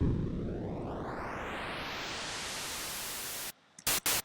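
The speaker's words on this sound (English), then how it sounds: "when you have it all the way up, you notice you get standard white noise." Steady white noise from the NI Massive software synth hisses across the whole range, sounding continuous, then cuts off abruptly and is followed by a few brief bursts of noise.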